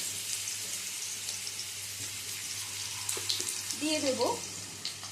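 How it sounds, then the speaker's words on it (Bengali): Potato pieces cut into large chunks drop into hot oil and start frying, a steady sizzling hiss that swells near the end, with a voice speaking briefly over it. "এবারে এই তেলের মধ্যে দিয়ে দেব আলু।"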